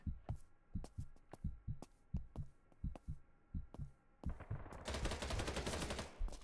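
Rapid bursts of video game gunfire, single sharp shots and quick clusters, followed by a dense sustained burst of shooting as the player is hit from behind; loud and close, with no talk.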